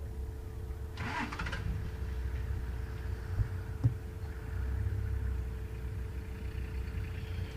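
A safari vehicle engine idles low and steady on a WildEarth game drive at Karula, a constant rumble under light outdoor ambience, with a brief rattling burst early on and a single knock midway.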